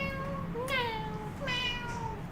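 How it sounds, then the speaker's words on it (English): A cat meows twice in quick succession, each call a clear rising-then-falling tone, close and moderately loud over a low background hum. "I love that your cat is meowing at the screen."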